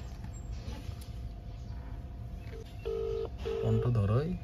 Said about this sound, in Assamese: ফোন এটা মাৰি দিওঁ